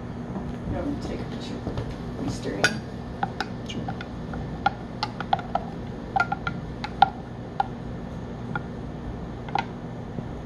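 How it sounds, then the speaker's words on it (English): Hot chocolate with white chocolate being stirred in a cup, producing scattered light spoon clinks and taps against the cup over a steady low background hum, with speech present. "let me stir it."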